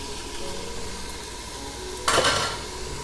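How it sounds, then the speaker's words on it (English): Diced onions hit the hot oil in an Instant Pot on sauté mode, browning ground beef for bulgogi. A steady low sizzle runs throughout, then a brief louder burst of stirring and hissing near the end. "just the way you saute onions, you just want to use the natural oil"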